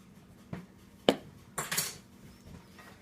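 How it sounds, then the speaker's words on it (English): Bread pudding being stirred with sugar and cinnamon in a pan, a few quiet utensil scrapes and clinks, spaced out and close. "And mix it up again."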